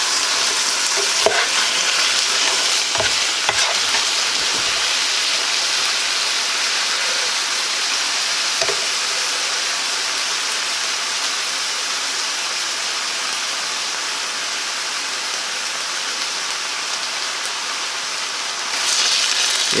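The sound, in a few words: meat browning and being stirred in pan for Guinness stew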